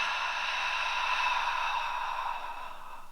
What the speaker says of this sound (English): Full exhale out.